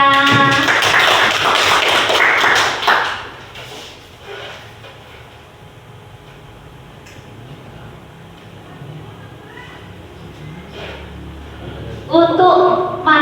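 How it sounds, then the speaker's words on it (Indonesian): Audience clapping at a teacher training session, loud and dense for the first three seconds, then fading into quiet room noise with scattered faint taps, and a short burst of clapping near the end. "Tepuk tangan Bapak Ibu semuanya."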